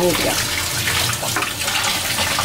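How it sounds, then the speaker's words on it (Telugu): Tap water pours steadily from a pipe over fish being cleaned for a fish curry, a continuous splashing rush filling the whole moment close to the listener. "ఇది పైపు పెట్టి ఇట్లా గడుపుకోవాలి."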